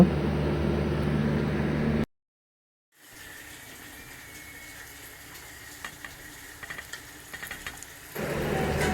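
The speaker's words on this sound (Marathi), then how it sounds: "त्यामध्ये जरा थोडा कांदा टाका आणि कांदा तो पण परतून घ्या जरा लालसर होईपर्यंत" Onion sautéing in a hot pan with garlic and ginger for a spicy prawn masala, a steady close sizzle with light stirring clicks, broken by a second of silence partway through.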